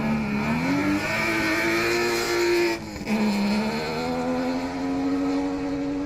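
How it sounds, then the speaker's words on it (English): A Toyota GT86 rally car with an EZ30 six-cylinder Subaru engine launches off the line at a forest rallysprint, giving a loud, close, sustained engine roar whose pitch climbs, dips briefly at a gear change, then climbs again. "A good launch off the line there for Willie Hawes."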